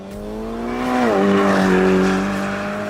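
A tuned Alfa Romeo Giulia Quadrifoglio sports car exhaust holds a steady, tuneful drone that swells and dips in pitch as the engine changes speed, loud and close.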